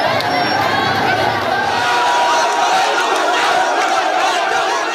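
A large crowd of students and citizens in a street procession celebrating, a dense roar of cheering and shouting voices heard throughout, loud and continuous with overlapping yells and chatter.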